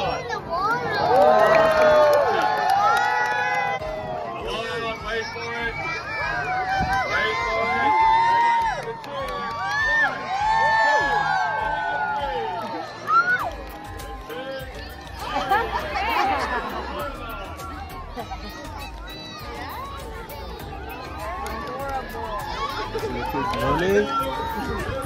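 Crowd at a pig race during a pumpkin patch outing cheers and chatters steadily throughout, with shouts and children's voices rising and falling, and people talking over the din.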